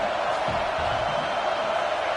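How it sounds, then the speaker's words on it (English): A stadium crowd in the video game College Football 26 roars in a dense, steady wall of cheering and noise, loud and sustained with no break across the short stretch. "These fans are going absolutely nuts."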